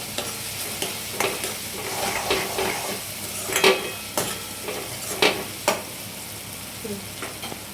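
Fried onions with garam masala and Maggi masala sizzle softly in a pan while a spoon stirs and scrapes, giving irregular clinks and knocks over a steady hiss.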